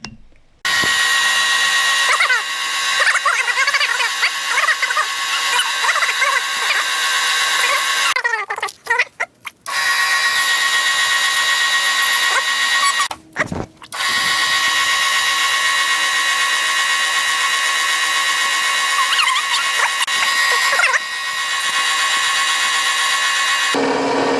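Pinewood derby axle spun by a power drill and polished against 220 grit sandpaper, a loud, high, steady whine that runs almost continuously with two short breaks as the axle is repositioned.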